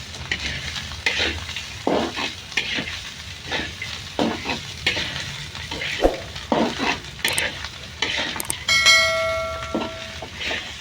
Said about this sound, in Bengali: উস্তা ভাজি করতেছি